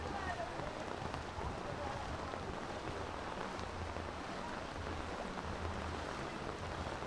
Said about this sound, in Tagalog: Inabot tayo ng matinding ulan